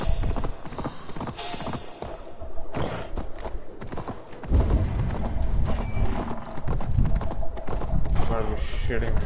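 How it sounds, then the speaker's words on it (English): Horse hooves clip-clop steadily with a brief whinny in Assassin's Creed Valhalla, game sounds and thuds mixed in, and a person talking over much of it. "It even sounds like a horse."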